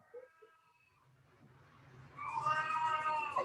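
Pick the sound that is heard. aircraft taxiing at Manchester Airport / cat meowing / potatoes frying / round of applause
cat meowing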